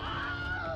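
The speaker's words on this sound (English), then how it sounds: "no quacking right now" A duck or goose gives a single short nasal honk, close and moderately loud, lasting under a second with no talking over it.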